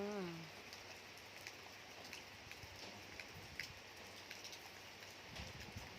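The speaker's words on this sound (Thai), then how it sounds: "ประมาณนี้ฝนจะตกประมาณนี้" Steady rain falls outdoors as a dense, even hiss, with a few brief voice-like tones at the start.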